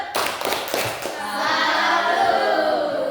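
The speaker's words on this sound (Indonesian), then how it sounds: "kita tepuk salut dulu untuk kelompok 3" Classroom group gives a rhythmic cheer-clap salute for a presenting student group, several sharp claps at first, then denser clapping with voices chanting along, fairly close and steady.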